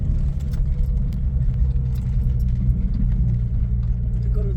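A lifted 2001 Nissan R50 Pathfinder 4x4 with a five-speed crawls slowly over rough off-road ground at about ten miles an hour, its low engine rumble steady and close beneath scattered rattles and knocks from the bumpy track.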